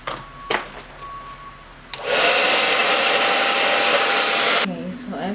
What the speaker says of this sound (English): just gonna take the blow dryer and we're gonna switch between hot and cool